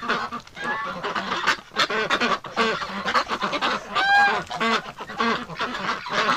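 Wintering geese and ducks honk and quack loudly and constantly in an enclosure, a dense close chorus of overlapping calls.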